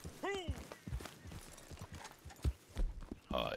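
A horse in Red Dead Redemption 2 clip-clops with scattered, uneven hoof thuds, opening with a sharp whinny and set against game sounds and someone talking.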